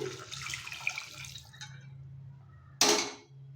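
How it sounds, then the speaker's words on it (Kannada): Water pours into a pan of sweet pumpkin palya with a gurgling rush, then a quiet hum, then a sudden loud hiss as more liquid hits the hot surface. "ನೀರು ಹಾಕ್ಕೊಳ್ತೀನಿ"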